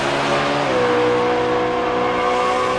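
Factory Stock drag race car, a Copo Camaro, at an NHRA U.S. Nationals bye run, heard as a loud steady engine roar with a rising, shifting tone that holds throughout, without talk.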